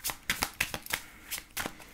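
A deck of Lenormand oracle cards is cut and shuffled up close, producing a quick series of crisp papery riffles and slaps over two seconds, with no talking.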